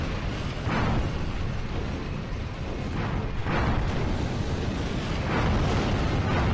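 Heavy booming blasts roll through a game battle as a mine goes off in Drakengard 2, a dense loud wash of rumbling explosions lasting several seconds with repeated surges, no talking.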